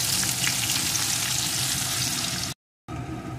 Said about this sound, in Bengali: এখন এর ভিতরে দিয়ে দেব একটা পেঁয়াজ কুচি। পেঁয়াজ কুচিটাকেও একটু ভেজে নেব।